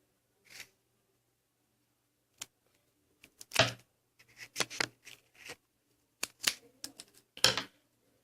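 Scissors cut paper into strips for a paper kunai: sharp isolated snips, then a quicker run of crisp cutting strokes with short pauses between them, close and clear against near silence.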